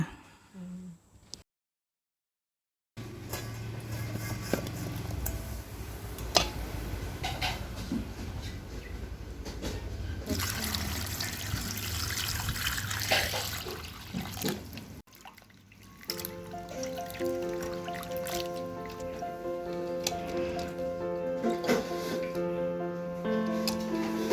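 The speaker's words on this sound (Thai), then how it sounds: "ครบสองชั่วโมงแล้วนำมาเทออก แล้วล้างด้วยน้ำสะอาดอีกหนึ่งครั้งค่ะ" Pieces of mango, soaked in limewater, being rinsed in clean water: steady splashing and trickling of water close by, with drips and the clatter of a container, a brief silent gap near the start.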